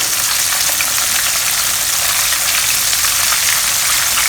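Prawns fry in hot oil with a loud, dense, steady sizzle and crackle that fills the whole stretch, close up with no pauses and no talking.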